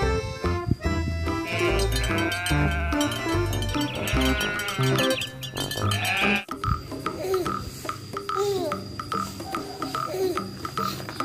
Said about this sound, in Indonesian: Oh, ada hewan kambing.